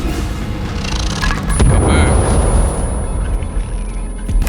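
A deep, rumbling explosion from the survival video game Sons of the Forest booms loudly and swells midway before settling into a heavy sustained roar.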